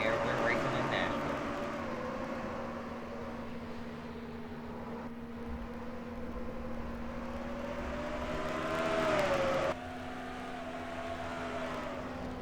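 PASS Series race cars roar past at Nashville Fairgrounds as the green flag drops, with a sustained, rising engine drone from the pack. A commentator talks over the sound.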